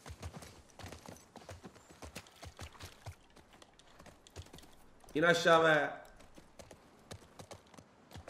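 Horse hooves clip-clop steadily in The Last of Us Part II, a regular close patter of hoofbeats throughout. Someone briefly speaks over it midway.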